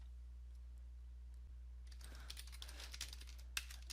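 Typing on a computer keyboard at a desk, a quick run of soft key clicks that starts after two seconds of near silence, with one sharper tap near the end, close and fairly quiet over a low hum.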